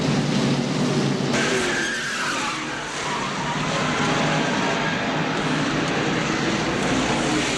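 NASCAR stock cars skid and collide at Darlington during the 1995 Mountain Dew Southern 500 as the 22 car makes contact with the 18. Loud screeching tires and roaring engines fill the whole stretch, dipping briefly before surging again.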